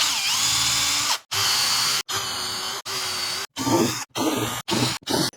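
Power drill boring holes into a guitar body fitted with a depth stop, loud close whirring in repeated bursts that stop and restart, the pauses growing shorter toward the end.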